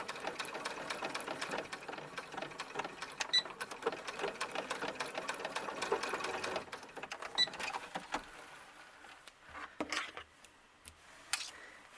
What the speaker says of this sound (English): since I'm going to do a little bit of back tacking, I'm taking out that pin